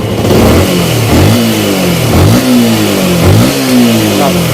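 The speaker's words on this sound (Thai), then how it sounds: "เครื่องยนต์ติดแล้วครับ ตอนแรกดังแก้งแก้งเลยครับ ตอนนี้เงียบเลยครับ" A repaired Yamaha M-Slaz motorcycle engine is revved up and down about four times in a regular rhythm, each rise climbing sharply then dropping back, loud and near.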